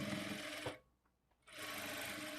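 A sewing machine stitches four layers of a frock, its close, steady motor hum breaking off for a brief pause midway before running again.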